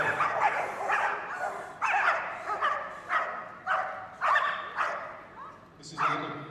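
Police dogs bark repeatedly in loud, regular bursts during a West Midlands and South Wales Police working display at the Crufts dog show, with a few yips and whimpers between the barks.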